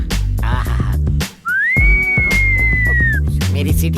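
A sustained, bright whistle rises and then holds steady for over a second in a comedic film scene, sounding loud over busy background music and percussion.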